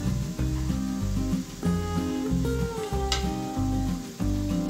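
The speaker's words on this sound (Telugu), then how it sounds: "కాకరకాయ ముక్కలు బాగా ఫ్రై అయిన తర్వాత వీటిని వేరే ప్లేట్లోకి తీసుకోవాలి" Pieces of bitter gourd fry in oil in a pan with a steady, close sizzle, partly masked by louder melodic background music.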